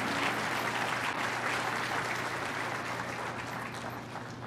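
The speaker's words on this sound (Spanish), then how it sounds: "Yo creo que merece un aplauso el Señor." Congregation applause at a Spanish-language church sermon: a sustained, dense wash of clapping from a crowded room that holds steady throughout, with a low steady hum beneath and no clear speech.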